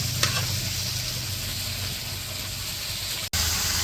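Spiced, mixed vegetables sizzling loudly as they hit a hot wok in a Bangladeshi village kitchen, a dense steady frying hiss with a brief stir, cut by a short gap near the end.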